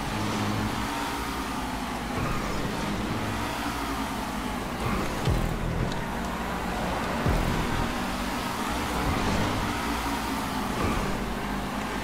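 Ocelot Lynx sports car lapping a race track in GTA 5 Online, its engine revving up and dropping back in repeated cycles at a steady moderate level, with no talk.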